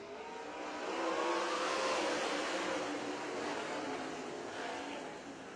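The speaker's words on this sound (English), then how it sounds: "it's fun to watch those cars exit turn number 4 right on the concrete" Race cars exiting turn four onto the concrete of a racetrack, a sustained roar of engines swelling and fading as the field passes, heard from a distance with no talk.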